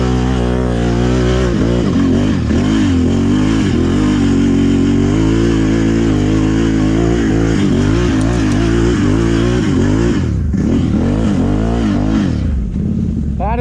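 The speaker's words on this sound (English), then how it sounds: "Just got to give her a little wheelie. Just get onto the throttle." Motorcycle engine revving hard on the throttle during a wheelie on an off-road ride: a loud, close, continuous engine roar rising and falling in pitch as the throttle is worked.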